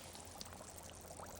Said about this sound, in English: This puddle is bubbling.